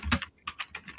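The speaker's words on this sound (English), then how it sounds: "someone's keyboard is really loud" Loud computer keyboard typing, several quick clustered keystrokes in bursts close to the microphone, with no voices over it.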